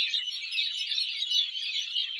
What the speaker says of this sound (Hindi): ये चिड़िया की आवाज़ है।